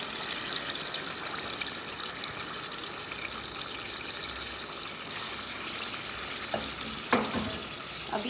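Boiled beef pieces for karahi boti tipped into hot oil in a karahi, giving a steady broadband sizzle throughout with a few sharper clatters near the end, close and alone with no talk.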